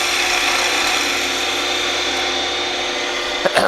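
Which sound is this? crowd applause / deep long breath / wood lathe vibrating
wood lathe vibrating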